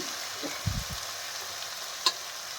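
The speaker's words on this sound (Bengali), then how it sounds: "বানিয়ে নিয়ে এখন এই মশলার সঙ্গে ভেজে নিচ্ছি।" Spice paste fries in a pan for a Bengali fish head and rice curry (muri ghonto), giving a faint, soft sizzle with a few brief scraping stirs against the pan.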